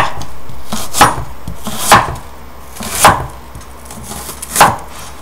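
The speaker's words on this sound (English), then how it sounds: "I'm going to just cut it" A knife chops crosswise through a thick slice for asparagus and onion Alfredo pasta, four loud, distinct thuds on a cutting board spaced about a second apart, with no voices.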